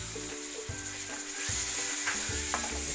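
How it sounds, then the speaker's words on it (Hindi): Chicken pieces frying in a pan make a soft, continuous sizzle with faint stirring under a low background, heard alone for a few seconds. "हल्का हल्का फ्राई करें जब तक इसका कलर चेंज हो"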